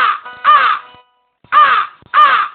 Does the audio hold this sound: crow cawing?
yes